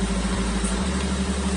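A car engine idles steadily after being started by a remote smart alarm system, a low even hum with a faint periodic pulse, close and alone without talk.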